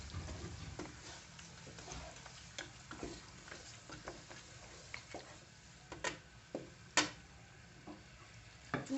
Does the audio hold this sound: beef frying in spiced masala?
yes